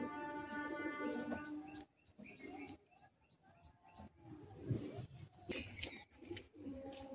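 Breeding-pair pigeons in a West Bengal fancier's loft coo and flutter nearby, with soft chirps and wing rustles in irregular bursts against quiet background noise.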